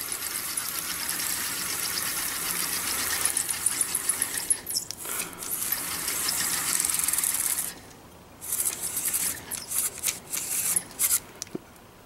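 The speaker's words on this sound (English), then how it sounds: "I like to hold the line real nice and tight and get a good tight spool" Fishing line winds onto a baitcasting reel as it is cranked, a steady close whirring with short pauses and a burst of choppy winding near the end.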